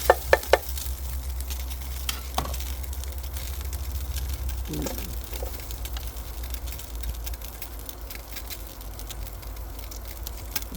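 Onions fry in a little oil for a chicken thigh stew, a steady close sizzle and crackle running the whole time, opened by a few sharp utensil knocks and marked by occasional stirring scrapes.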